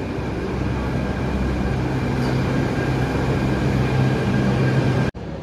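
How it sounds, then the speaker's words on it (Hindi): A loud, continuous rumble and hiss of a metro train arriving at a station, steady for several seconds before cutting off abruptly near the end. "भाई मेट्रो भी आ गई है अपनी।"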